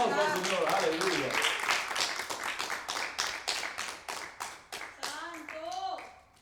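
A Spanish-speaking church congregation claps during a worship service. Rhythmic, fairly close hand claps run throughout while people speak and call out over them, and a voice is heard near the end.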